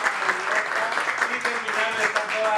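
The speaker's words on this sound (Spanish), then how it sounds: "Un aplauso a las 7." A television studio audience applauds during an extreme-challenge show, with steady clapping from many hands mixed with background music and some voices over the whole stretch.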